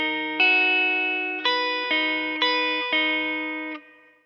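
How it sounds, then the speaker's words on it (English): A slow electric guitar phrase, processed with effects and chorus, five picked notes ringing into each other at an unhurried pace, close and clear with no voices. "The whole phrase played slowly sounds like this."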